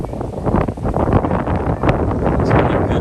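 Wind at a beach in Hawaii buffets the microphone with loud, gusty rumbling and rustling that rises and falls throughout.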